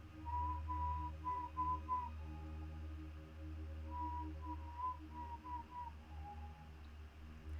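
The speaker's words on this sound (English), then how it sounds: "we heard the whistling." Eerie whistling passes a house at night around 3 a.m., heard as two runs of thin, wavering whistled notes that rise and fall over a steady low hum, fairly faint and with no voices.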